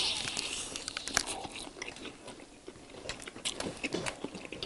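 Crispy, spicy cheese-snow-seasoned fried chicken being bitten and chewed up close, with repeated crunchy bites and wet mastication over several seconds, faint voices briefly in the background.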